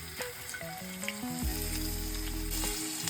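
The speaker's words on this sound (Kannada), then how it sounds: "ಈರುಳ್ಳಿನ ಫ್ರೈ ಮಾಡ್ಕೊಳ್ಳೋದಕ್ಕೆ ಎಣ್ಣೆನ ಹಾಕೋತಾ ಇದ್ದೀನಿ" Onions fry in hot oil for an onion chutney, giving a close, steady sizzle that builds and crackles under brief clinks and stirring.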